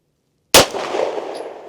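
A single loud, close Beretta M9A1 pistol shot fired at an outdoor shooting range, with a sharp crack followed by a long, rolling echo that slowly fades.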